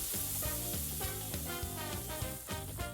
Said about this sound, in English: Here I'm using the constant flip technique, flipping about every 20 seconds